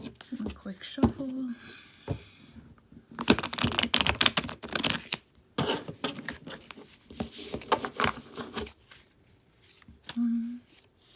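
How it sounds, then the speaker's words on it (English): Tarot cards are shuffled by hand in quick bursts of crisp riffling and flicking, close up and fairly loud, separated by short pauses. "A quick shuffle."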